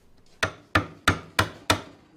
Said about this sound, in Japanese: ノコギリで切れ目を入れておいた覆輪の部分をのみで落とします。